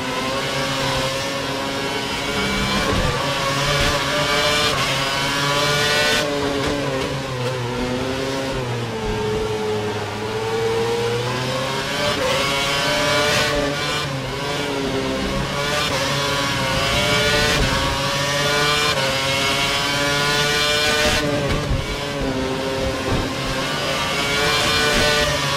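An F1 2011 video game race car engine at full revs screams loud and constant during a Belgian Grand Prix race, whining high with brief pitch dips at gear shifts and no talk.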